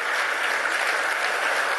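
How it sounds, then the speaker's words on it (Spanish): A crowd in a national assembly session in Venezuela applauds, a dense, even wash of clapping heard at moderate distance with no voices over it. "Un aplauso y un reconocimiento para todos esos camaradas"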